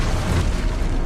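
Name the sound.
Expulso spell explosion in Hogwarts Legacy video game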